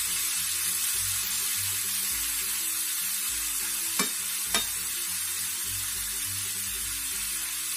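Beef frying in olive oil in a pan for Cuban vaca frita, a steady loud sizzle throughout with stirring scrapes and two sharp clicks near the middle, no talking.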